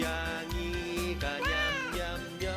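A cat meows in a children's song about sharing food, its drawn-out, rising cry mixed with sung melody and music rather than heard alone.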